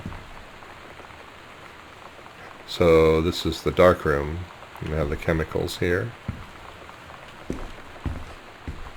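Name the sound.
wind and rain outside, video game Gone Home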